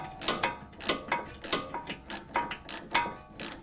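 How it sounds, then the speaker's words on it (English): A fine-toothed ratchet works on BMW X5 E53 front suspension, giving a quick run of rhythmic clicking bursts, close and distinct, repeating about three times a second. "this particular ratchet has some finer teeth, and it's just making the job easier"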